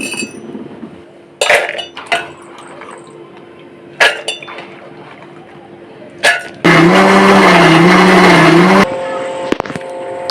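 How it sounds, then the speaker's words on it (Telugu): A few clinks and knocks of a kitchen mixer grinder jar being handled, then a loud, continuous whirring roar of the mixer grinding soaked black-eyed peas and rice for about two seconds before it stops. "రండి మనం మిక్సీ పట్టేద్దాం"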